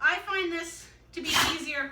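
A sneeze from someone during dog nail Dremel training, one sharp burst following a person speaking.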